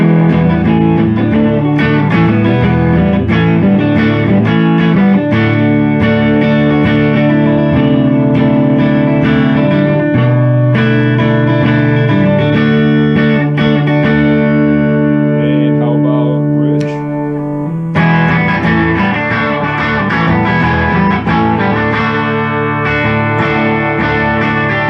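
Clean electric guitar on a Gibson Les Paul Special Tribute, P90 neck pickup, played with warm, round tone, chords and melodic lines ringing steadily and loudly for the whole stretch, with a brief dip near the end.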